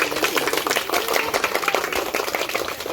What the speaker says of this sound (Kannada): ಚಪ್ಪಾಳೆ ಮುಖಾಂತರ ಧನ್ಯವಾದ